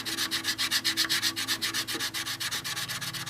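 Putty being sanded on a 1/48 Zoukeimura F-4E Phantom II model kit, a steady rapid back-and-forth rasp of close, fairly loud strokes that keeps an even rhythm throughout with no talking.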